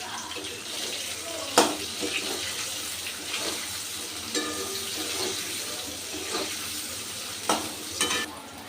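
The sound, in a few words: onion and capsicum frying and being stirred in a pan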